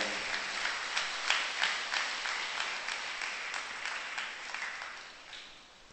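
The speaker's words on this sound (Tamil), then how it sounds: "அவர்களை வாழ்த்துகிற விதமாக கரவொலி எழுப்பி நாம் அவர்களுக்கு பாராட்டுவோம்" A church congregation at Sunday worship claps for the youth group, producing a dense, steady patter of many hands that swells in waves and tapers off at the end, with no speech over it.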